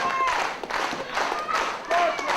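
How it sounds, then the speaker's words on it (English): A wrestling crowd at a tag-team title match claps and cheers in surging bursts, with a commentator talking over the noise. "listen to the crowd getting behind Linnell"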